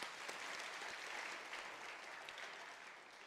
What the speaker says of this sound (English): I think we can give ourselves a round of applause.